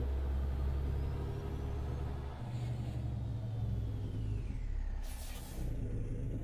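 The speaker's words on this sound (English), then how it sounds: "golly, brakes on this thing" Air brakes of a truck in American Truck Simulator hiss in a sharp burst over a constant low engine rumble, with a brief earlier release sound and no talking.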